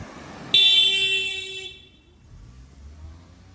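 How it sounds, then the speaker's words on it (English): A car horn blares once in a single sustained honk lasting about a second on a Tokyo street, loud against a quiet background of faint traffic rumble. "I think he honked at a child who was biking."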